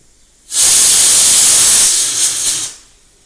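A pressure cooker cooking raw mango on a gas stove lets out a loud, close burst of steam. The hiss lasts about two seconds, then fades out, with quiet before and after and no talking.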